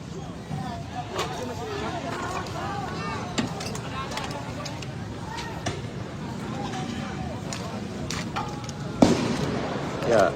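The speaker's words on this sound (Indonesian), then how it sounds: "suara tembakan gas air mata terus-menerus terdengar" Tear gas canisters are fired repeatedly by police toward a crowd at a protest with fires burning, sharp bangs standing out at intervals over a constant crowd murmur, with a louder close burst near the end.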